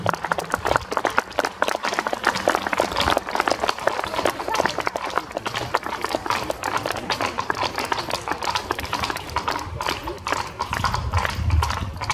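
Horses pulling carriages in a tandem and three-horse driving competition at Książ Castle, hooves clip-clopping steadily at moderate distance beneath crowd noise and scattered applause.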